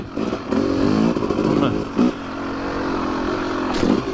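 A Yamaha YZ 250 two-stroke dirt bike ridden on a trail, engine revving up and down in repeated bursts with crackly, rasping tones and clattering from rough ground, close to the rider.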